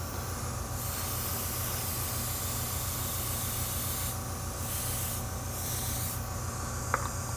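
Spray gun laying a thick paint coat on an '81 Monte Carlo, a steady, close, loud airy hiss that runs unbroken throughout, with a brief faint tick near the end and no talking.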